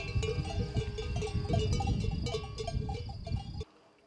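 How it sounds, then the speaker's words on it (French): A flock of sheep bleats in a hillside pasture below village ruins, with overlapping calls and clanking bells carrying steadily before cutting off near the end. "Armand Ferrando vit en contrebas avec ses moutons"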